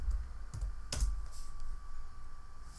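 Typing search words on a computer keyboard in the game Her Story: a few crisp key clicks in a short burst, quiet and close over a low steady hum.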